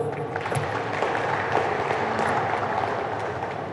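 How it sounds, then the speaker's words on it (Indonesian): An audience at the launch of a ferry ticket booking app in Indonesia applauds, a thick, continuous wash of clapping with crowd murmur, loud and close throughout. "Tepuk tangan dulu dong."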